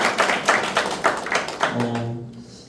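A church audience at a closing lecture session claps in a short burst of applause, steady and fairly near, fading out as a low hum takes over at the end.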